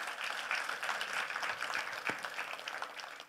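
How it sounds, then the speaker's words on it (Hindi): Applause from an event audience, a soft, even wash of many hands heard from a distance, low in level and steady throughout with one brief thump partway through. "मेरे मित्र और बड़े भाई सुप्रिय जी जहां भी हैं उनके लिए तालियां बजनी चाहिए।"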